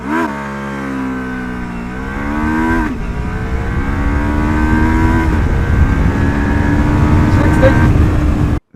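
A Lexmoto LXR380 motorcycle on its stock exhaust and ECU accelerates hard from 0 to 60, the engine note climbing through several gears with brief drops at each shift, loud and close throughout.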